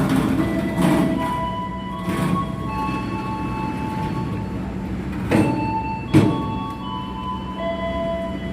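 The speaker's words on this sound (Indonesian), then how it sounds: "Airlangga berangkat stasiun Cikampek" An Airlangga train pulls out of Cikampek station in a steady loud rumble of rolling cars, with brief louder clanks and squeals at intervals and no talk.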